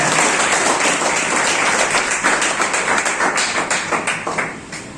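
Students at a Teacher's Day function clap loudly to welcome their teacher, a dense burst of crowd applause that thins toward the end into distinct, slowing individual claps.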